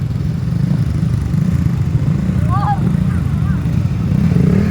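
A motorcycle engine runs steadily on a mountain trail at Mount Kilang in Solsona, Apayao, a continuous low rumble filling the whole stretch with a brief faint chirp partway through.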